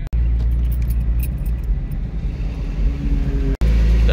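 A car driving through a tunnel during a track day at Lakeside Park raceway, a steady low engine rumble and road roar echoing in the enclosed space, with a couple of sharp clicks.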